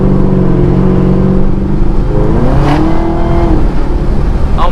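A supercharged Chevy Camaro ZL1 with a 650 hp pushrod V8 accelerates hard, its loud engine note climbing in pitch through the rev range, dipping briefly and rising again, heard from inside the car with no talk.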